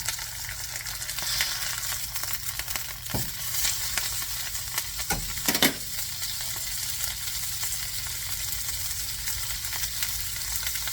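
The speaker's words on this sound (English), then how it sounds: "what we're doing here is called searing. We're not cooking it, we're searing it." Bone-in beef shanks searing in a hot pan give off a loud, steady sizzle throughout, broken by a few sharp pops and clinks near the middle.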